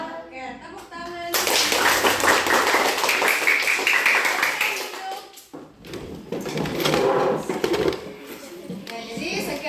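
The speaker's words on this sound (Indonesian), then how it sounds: "Oke, tepuk tangan." A class of children clapping their hands together in a burst of loud, dense applause, fading and then rising again, with children's voices mixed in.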